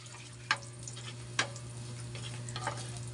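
Chop suey stir-fries in a pan with a steady, soft sizzle under a low hum, broken by two sharp spatula scrapes and a few lighter clinks, with no talk.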